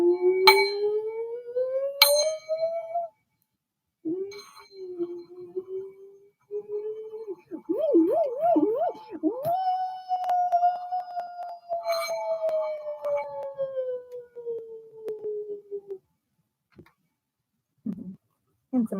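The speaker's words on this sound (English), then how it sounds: "And some lovely chimes." Healing chimes ring out in a sound-cleansing session: bright metallic strikes followed by long sustained, gliding tones that swell and fade, with several separate rings and pauses, close and clear with no talking.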